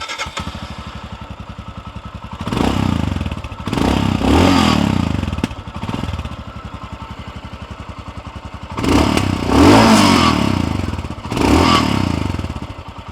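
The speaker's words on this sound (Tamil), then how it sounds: "இப்போ இந்த பைக்கோட எக்ஸாஸ்ட் நோட் எப்படி இருக்குது அப்படின்னு நம்ம பார்க்கலாம்." Royal Enfield Scram 440 scrambler motorcycle idling with a steady low thump, then blipped through several loud revs in two pairs of bursts, each rising and falling back to idle, close and alone.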